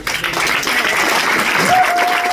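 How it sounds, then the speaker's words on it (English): A crowd gives a sustained round of applause at a tribute gathering, the dense clapping steady and loud throughout, with a faint tone rising briefly near the end. "Let's give another round of applause for"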